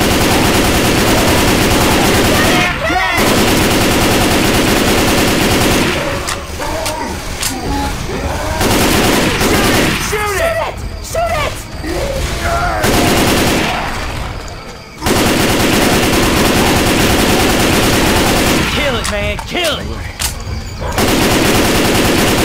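Gunfire in the video game Left 4 Dead 2: loud bursts of rapid automatic shooting in several separate volleys with brief gaps between them, close and dominant throughout.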